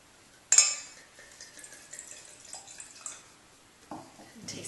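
Sauvignon Blanc wine poured into a glass at a club wine tasting: a sudden bright splash and clink opening into a soft, faint trickle, with a few light glassy taps near the end.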